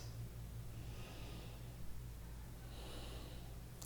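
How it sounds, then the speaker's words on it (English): Slow deep breaths, two airy inhales and long exhales, soft and close over a low steady hum, with no talking. "Deep inhales, long exhales"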